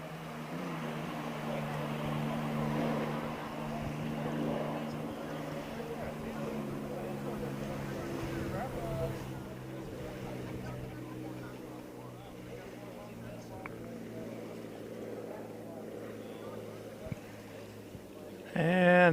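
A classic hydroplane race boat engine on Lake Washington at Seafair 2016 gives a sustained, droning roar heard from a distance, fading gradually near the end.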